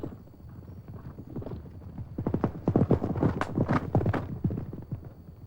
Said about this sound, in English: The horse with your Prince of Power is absolutely eating up the ground.